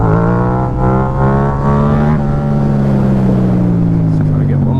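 A Yamaha MT-07 motorcycle engine accelerating hard, a loud, close, steady roar whose pitch climbs, dips briefly at a shift, then holds high before easing off.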